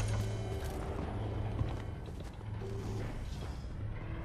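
A heavy vault door grinds open in a video game, a steady mechanical creaking and ratcheting with low hums running for several seconds at moderate, even volume.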